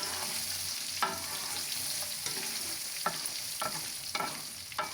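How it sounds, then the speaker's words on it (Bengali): Salted, turmeric-coated sun-dried mango pieces fry for pickle in a pan, with a steady sizzle and a few sharp scraping stirs at intervals, close and alone. "তারপরে এই আমগুলা দিয়ে ভালো মতো ভেজে নিব।"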